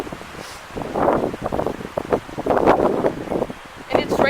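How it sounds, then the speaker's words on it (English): Gusty wind buffets the microphone outdoors in rainy weather, rising and falling in rough rushing bursts that are loud and close, with speech mixed into the noise. "I love windy weather."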